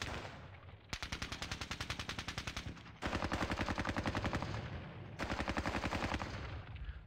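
Automatic gunfire in the WWII strategy game Squad Battles: Red Victory at Ponyri, three long bursts of rapid, evenly spaced machine-gun shots, loud and steady, with short gaps between them and no voices.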